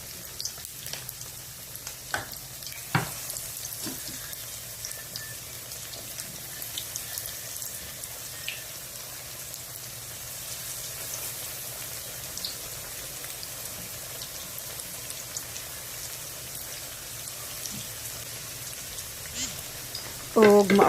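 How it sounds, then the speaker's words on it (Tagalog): Breadcrumb-coated chicken frying in oil, a soft steady crackle and sizzle with occasional louder pops, continuous and fairly quiet throughout. "Then, ready to fry na tong chicken."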